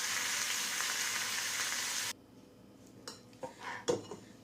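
Chopped onion and tomato sauté with salt in a kadai, sizzling loudly and steadily up close, then the frying cuts out, leaving a few light clinks of a spoon against the pan.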